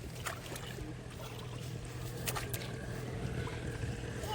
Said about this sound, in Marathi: बोटिंग करतोय